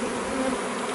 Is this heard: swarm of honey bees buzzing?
yes